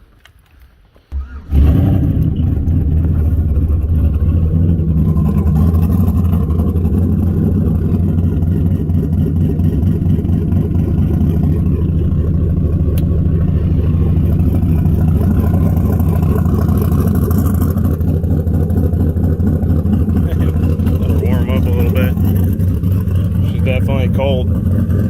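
A truck with a freshly rebuilt 10-bolt rear end fires up after a brief crank and settles into a loud, steady, rumbling idle close by, with slight rises in revs over a long stretch.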